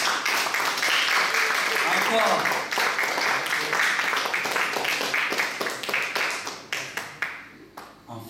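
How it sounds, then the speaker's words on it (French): A large audience claps loudly and steadily at an evening event, dense sustained applause that thins into scattered claps near the end, with a voice calling out briefly. "je vous demande d'applaudir très très fort"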